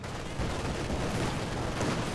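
Heavy DShK machine gun fire in a competitive real-time strategy match, a dense continuous rattle of rapid bursts blended with other battlefield gunfire, loud and sustained throughout.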